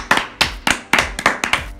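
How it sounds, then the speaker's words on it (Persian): Close, loud hand claps, about seven or eight sharp slaps in an uneven rhythm, from a couple of people cheering in a small room with no other sound. "بیاین تشویقشون کنیم."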